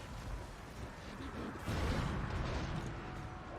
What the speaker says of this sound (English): Warp lightning cannon!